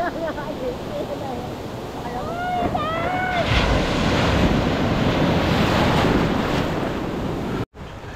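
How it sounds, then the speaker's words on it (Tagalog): Large ocean waves break and wash onto a beach during a summer outing, a steady loud surf roar with wind buffeting the microphone and someone talking over it near the start. "Oh, laki ng alon, oh."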